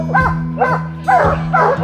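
Hunting hounds bay on a bear in West Virginia. Four distinct, loud barking bays come at uneven intervals over a steady low droning hum.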